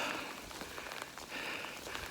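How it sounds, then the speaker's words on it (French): Dense, hissing patter of hail pellets striking surfaces all around in the mountains at Cime de l'Arphia, steady and close, with occasional sharper ticks and no talking. "Il grêle."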